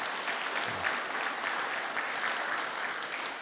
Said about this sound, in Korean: 우리 박수하기로 했는데 한번 박수로 경험하시겠습니다.